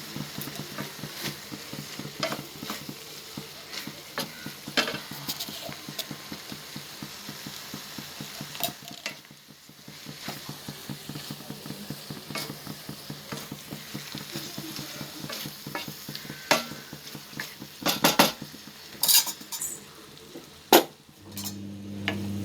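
Moringa flowers sautéing in a pan for a stew give a steady close sizzle, broken by frequent scraping and tapping as a spoon stirs them, with a few sharper clinks near the end.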